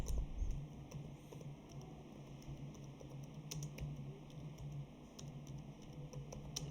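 Computer keyboard typing while entering a chart title in an Excel spreadsheet: faint, quick scattered key clicks tapping along over a quiet background, with no voices.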